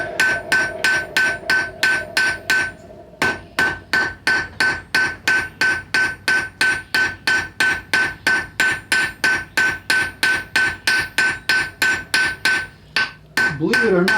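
Blacksmith hammering metal on a cold anvil during a demonstration, squaring up a workpiece: loud, close, evenly spaced ringing blows in a long steady series, with a brief pause near the start and another near the end.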